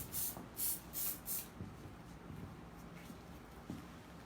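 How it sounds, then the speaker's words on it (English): Flexible hairspray sprayed onto hair during a long-to-bob haircut, four short bright hissing bursts in quick succession, then quiet rustling and soft handling noises. "And that's a flexible hairspray"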